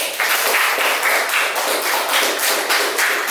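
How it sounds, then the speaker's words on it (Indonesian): A group applauds for children, a dense, steady burst of clapping held evenly from start to finish with no voices over it. "Tepuk tangan dulu buat dong"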